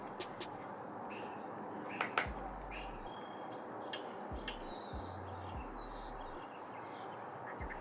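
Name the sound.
birds chirping outside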